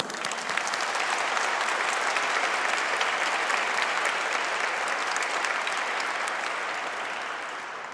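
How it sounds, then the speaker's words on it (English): A commencement audience gives a long, steady round of applause for the volunteers at a Class of 2020 recognition ceremony. Dense clapping from a large crowd holds loud and even throughout, then eases off slightly near the end. "Please give them all a round of applause."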